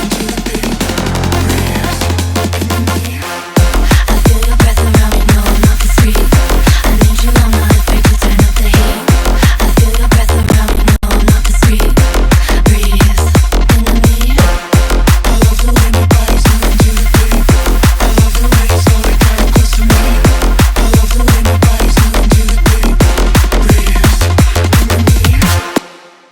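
Dancefloor drum and bass build-up and drop playing loud, a short filtered intro giving way at about four seconds to a driving four-on-the-floor kick, dense percussion and full synths that run steadily to the end.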